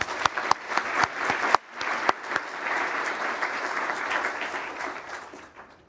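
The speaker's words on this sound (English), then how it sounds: "So another clap." An audience claps for an Indigenous elder receiving a Female Elder of the Year honour at an awards event, with a few sharp early claps swelling into steady, sustained applause that slowly fades.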